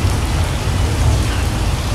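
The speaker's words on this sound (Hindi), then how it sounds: "इन्होंने मसनूई तौर पर एक बारिश का निज़ाम भी क्रिएट किया हुआ है, और उसके अलावा जो है ना बादल गरजने की आवाज़ भी सुनाई देगी" Artificial rain falls steadily inside a zoo aviary, a dense even hiss of drops with a low rumble beneath, close and continuous without talk.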